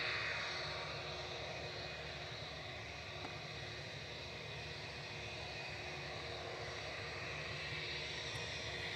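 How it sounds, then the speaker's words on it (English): SAS jet airliner departing Manchester Airport for Copenhagen, a faint, distant, steady engine roar holding throughout without voices. "So it's the Star Alliance breakup SAS OYKBT going to Copenhagen with flight 540."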